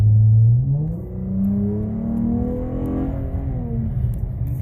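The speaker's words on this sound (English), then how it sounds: "You can see how she responds pretty good to the throttle." Dodge Challenger fitted with NGK plugs and Ripp coil packs, its engine revving up and accelerating hard close by, the pitch climbing, easing as gears kick down, then climbing again in a steady loud pull.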